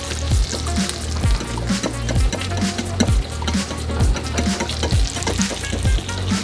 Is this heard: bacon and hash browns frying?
yes